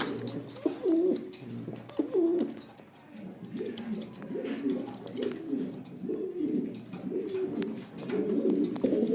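Large-sized male pigeon at a Gaziput market stall cooing in repeated throaty rolling phrases, close and fairly steady, with faint background noise between calls.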